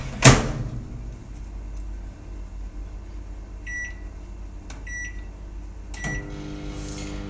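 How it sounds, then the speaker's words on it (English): A home kitchen microwave oven runs with a steady low hum, opened by a sharp clunk, with two short electronic beep bursts partway through and another clack near the end. "turn the microwave on"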